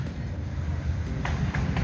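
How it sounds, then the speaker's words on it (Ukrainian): A tram rolls past close by on a street near Pushcha-Vodytsia, its steady low rumble and faint rail clatter sustained throughout with occasional higher squeaks, no talking. "а трамвай, здається, часто ходить тут"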